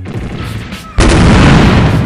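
Missile launcher fire in SD Gundam Online from the Union Flag Celestial Being Version, a sudden loud boom at the midpoint that rolls into a sustained roaring blast, following quieter game effects.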